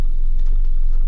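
Tipper truck driving by through monsoon rain, a loud continuous low engine rumble with rain noise spread across the whole short stretch.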